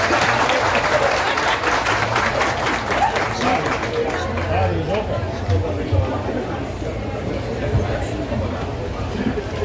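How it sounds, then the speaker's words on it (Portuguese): Sustained applause from an audience at a Brazilian tribute event, steady dense clapping filling the room from start to finish with a low murmur of crowd voices underneath. "Aplausos, povo do Brasil."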